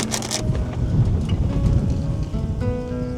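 Strong wind gusts across a mountain campsite in the Sierra Madre, a loud, continuous rushing buffeting close to the microphone, rumbling and uneven with brief rattling bursts.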